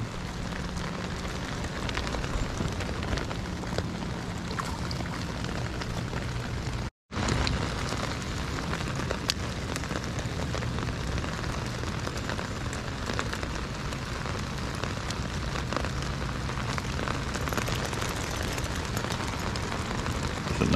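Steady rain falling during crappie fishing, a dense, even hiss of drops on water and surfaces that runs throughout with one brief break, no voices heard.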